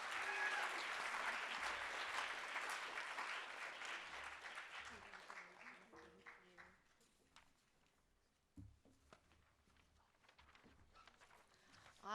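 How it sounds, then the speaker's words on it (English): A room of people at a student life awards event gives a loud round of applause for the student mentors. The clapping is dense at first, then gradually thins out and fades away. "Give them another round of applause."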